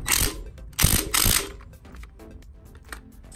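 A hand ratchet wrench clicks in quick bursts while tightening bolts during a 3-inch lift kit install on a Toyota Tacoma TRD Sport, close and clear, followed by softer scattered metallic clicks.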